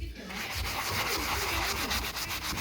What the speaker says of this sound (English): Backwards and forwards. Don't go around in a circle. I find that you rub it back into the grain.